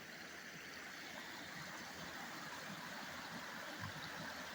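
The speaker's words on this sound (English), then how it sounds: "the water is now running through here" Steady rushing spring snowmelt runoff flows continuously through a channel, a broad even wash of sound with no voices, nearby.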